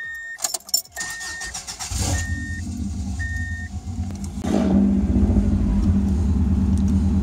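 A Subaru's engine cranks and catches after a jangle of keys, then settles into a steady, loud idle close by that swells slightly partway through, with no talking.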